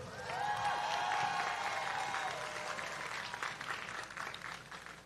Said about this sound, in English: Can we get a round of applause for our graduates?